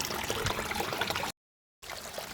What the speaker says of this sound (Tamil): நல்லா நீட்டாக கழுவி எடுக்கணும்.